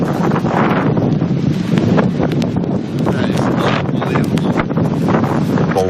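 Strong wind gusts roar steadily against the microphone, buffeting and rumbling throughout, with faint rustling mixed in.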